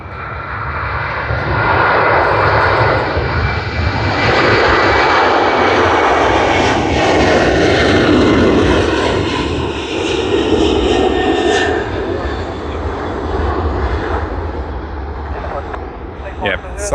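A Qantas airliner departing Sydney Airport in the late evening, its engines roaring steadily and loudly throughout as the jet powers away, with a low rumble and broad roar that eases slightly toward the end.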